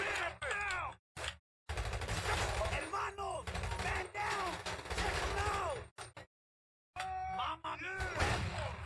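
Rapid bursts of game gunfire crackle in dense volleys, broken by brief silent gaps, with tonal game effects layered over the shooting.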